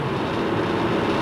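Steady rushing wind roars against the windscreen and wiper of a Honda FR-V driven fast on the open road. The dense, even noise fills the whole moment.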